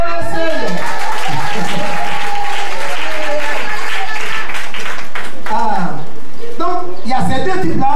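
Church congregation applauding and cheering together in a worship service, loud sustained clapping with voices calling out and singing over it, the applause thinning near the end.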